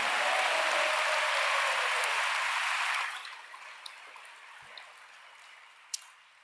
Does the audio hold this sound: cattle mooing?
no